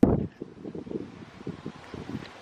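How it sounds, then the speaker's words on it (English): Strong wind buffets the microphone in steady, low rumbling gusts after a brief loud bump at the start, with no voices. "It's really windy out here"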